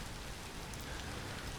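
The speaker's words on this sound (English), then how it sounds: "Alright, well, it's rainy." Steady, even rain hiss in the survival game Vintage Story on an island, a continuous broadband wash with no distinct drops or thunder, fairly quiet and alone.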